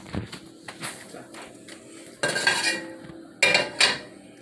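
A metal frying pan is handled on a stovetop while half a stick of butter goes in to melt over medium heat. Scattered clanks and scrapes come first, then two louder bursts of clattering, with no talk.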